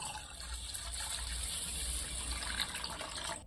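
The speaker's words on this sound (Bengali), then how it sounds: "আমি জল দিয়ে ভিজিয়ে রাখছি ঘন্টা খানেক।" Water pours steadily onto washed rice in a bowl, setting it to soak; a continuous, close gushing wash that runs evenly for several seconds before stopping abruptly.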